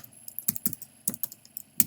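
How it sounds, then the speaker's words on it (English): Quick, uneven keystrokes clatter on a nearby computer keyboard, about a dozen crisp clicks in under two seconds with no talking. "I'm typing."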